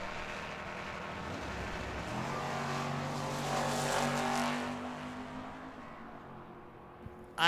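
Drag racing cars, including a Chevy Chevelle, launch at Tucson Dragway with a loud, rising engine roar that builds and sustains before fading, heard from trackside.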